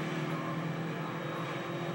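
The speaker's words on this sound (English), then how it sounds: "Plane." An airplane in GTA3 drones overhead as a steady, broad engine roar that holds at an even level throughout.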